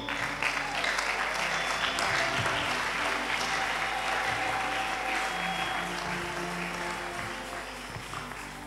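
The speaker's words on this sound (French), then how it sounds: "Acclame bien." A church congregation at a Sunday service applauds steadily for about nine seconds, a dense, sustained wash of many hands that fades slightly toward the end, with some voices mixed in.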